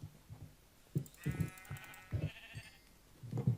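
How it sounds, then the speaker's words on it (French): Sheep in the Minecraft video game bleat in a few short, wavering calls, fairly clear over soft background noise, with no talking. "Ah, il y a du mouton, parfait."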